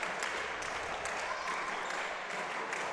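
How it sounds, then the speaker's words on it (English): Crowd noise fills a girls volleyball tournament gym, a steady wash of cheering and clapping at moderate distance with a few sharp ball or shoe sounds cutting through. "This place is loud and proud right now. This crowd has things rocking here."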